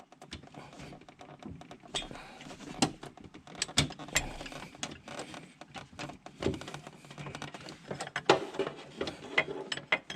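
A wrench loosens fuel filter fittings on a Lamborghini Gallardo, with repeated close metallic ratcheting clicks and clanks in an uneven rhythm.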